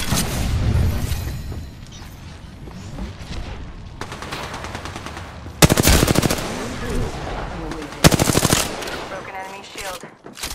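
Automatic weapons blaze in an Apex Legends match, with two loud rapid-fire bursts standing out over a background of more distant shooting and game noise.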